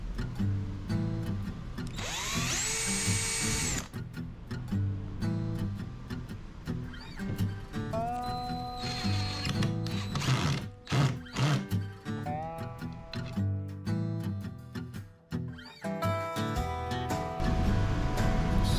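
Cordless power drill driving screws into the wooden top of a patio cooler, with repeated whirring bursts of varying length and spinning-down pauses, close and fairly loud.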